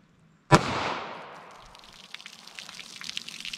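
A single loud, close .32 H&R Magnum gunshot fired into water jugs cracks sharply, then decays in a long ringing wash, followed by faint scattered rustles.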